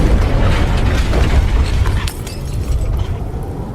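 A violent shipboard impact from a ship striking an iceberg, rendered as a sound effect: a heavy, dense rumbling crash with grinding, crackling texture that holds loud for about two seconds, then eases into a lower churning roar.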